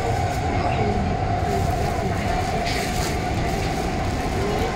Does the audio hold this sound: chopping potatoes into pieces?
no